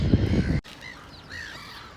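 Crows squabbling over the same food give several harsh caws and a couple of rising calls, loud and close after a brief noisy burst.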